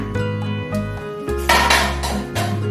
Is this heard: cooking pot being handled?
yes